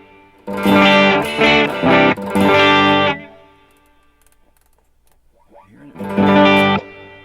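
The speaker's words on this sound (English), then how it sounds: "let's get a nice plate reverb here" Loud sustained guitar chords through a Boss GX-10 plate reverb ring out with a spacious, shimmering tail. A pause with faint noise follows, then another strummed chord washes in.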